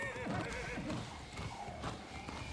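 Video game horse whinnying with a rising and falling neigh, overlaid with clip-clopping hooves, heard fairly close amid faint background sound for a few seconds.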